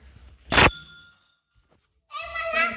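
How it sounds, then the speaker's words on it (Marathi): A temple bell at a Maruti temple gives one loud, ringing clang that fades out and is followed by a voice. "घंटी कोणी वाजवलं नाही"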